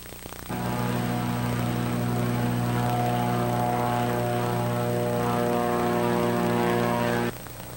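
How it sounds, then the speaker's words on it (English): A propeller float plane at Hood Lake in Anchorage, a busy float plane base, with a loud, steady droning engine and propeller hum that starts abruptly and cuts off near the end. "There are all kinds of different airplanes here at Hood Lake in Anchorage, the busiest float plane base in the world"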